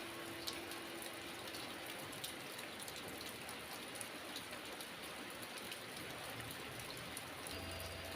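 Real rain falls in a soft, continuous patter, with close raindrops ticking crisply over a steady, fine hiss at low volume and no voices.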